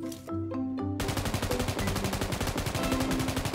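M249 machine gun fired from the hip in a shooter video game: a short burst starts after a brief musical intro, then a steady rapid stream of loud, close automatic shots runs to the end.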